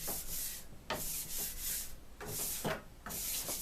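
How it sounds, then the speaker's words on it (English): A steel trowel held almost flat is dragged up and down across Firenzecolor Animamundi metallic plaster, giving a series of close, hissing rasping strokes with short pauses between them. "start putting your trowel almost flat and drag with the edge of your trowel"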